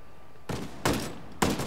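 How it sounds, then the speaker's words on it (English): Unsuppressed gunfire in the Ghost Recon Breakpoint video game comes as three sharp, fairly quiet bursts about half a second apart over a low background hum. "I hear unsuppressed enemy fire"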